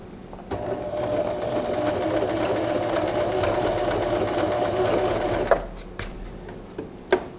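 A Janome Arctic Crystal sewing machine stitches in a steady whirring run of about five seconds, close and moderately loud, then stops, followed by a few light clicks and handling taps.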